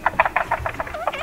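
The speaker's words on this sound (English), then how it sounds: "as you can probably hear, there are so many frogs" Many frogs croaking in a mountain wetland pond, a rapid run of loud, close, repeated calls in quick succession with no voices.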